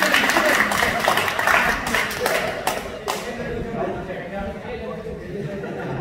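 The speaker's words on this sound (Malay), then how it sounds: "Tolong bagi tepukan pada Rudy ya." Audience applause at a golf club monthly medal prize-giving, a dense burst of clapping and thumps in the first few seconds that thins out, with chatter and voices continuing underneath.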